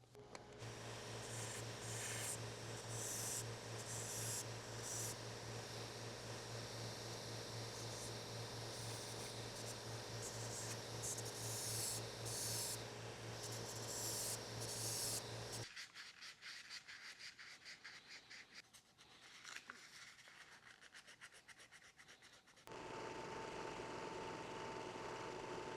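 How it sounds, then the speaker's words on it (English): A sander cleans up a 3D printed part for a rotary fixture, with a steady near motor whine and grinding rub that cuts off partway, leaving quieter scraping before the motor hum returns. "I'm going to clean this up on the sander"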